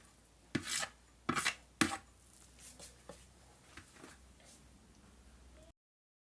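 A spoon or spatula scrapes and stirs a thick pork-head porridge mixture with fried onion. Three strong strokes come first, then softer, slower scrapes, close and alone.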